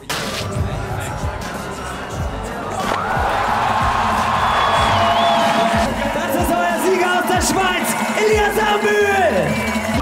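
A crowd cheers and whoops for a local skier landing a 1440 spin on a city ski jump, a broad roar of voices swelling after a couple of seconds and holding loud and steady, with shouts and scattered thuds throughout.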